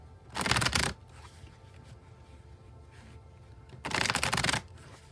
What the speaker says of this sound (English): I'll shuffle till the deck feels ready